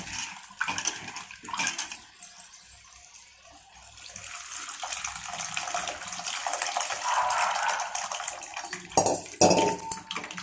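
Soaked tamarind water poured into a cooking Telugu-style broad bean (goruchikkudu) curry, a steady splashing, trickling pour that swells and ends with clinks of a vessel against the pan, close and alone without talk.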